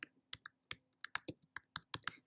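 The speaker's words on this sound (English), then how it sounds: "All you have to do is start typing." Fingers type on a computer keyboard, producing about a dozen crisp, close keystroke clicks in an uneven rhythm, quiet and alone with no talking.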